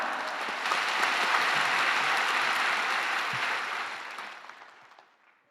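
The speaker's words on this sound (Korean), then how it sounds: "우리 오른손을 높이 들고 할렐루야로 또 박수로 크게 환영하겠습니다" A church congregation at a Wednesday worship service claps loudly to welcome a pastor to the pulpit, a full, sustained roar of applause that swells, holds, then thins out and fades over the last seconds.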